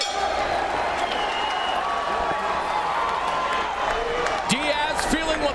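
Arena crowd at a Strikeforce welterweight championship event in San Jose, a dense continuous roar of cheering and whoops with a commentator talking over it.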